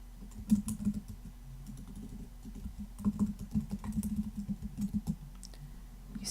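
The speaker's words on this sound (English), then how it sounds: "when you just start typing in here" Typing on a computer keyboard in a WordPress editor, a steady run of close, light key clicks in uneven bursts with no talk over it.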